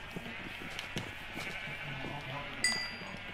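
Sheep bleating in the game Minecraft, a few short faint bleats under a low hum of game background, with a sharper click near the end.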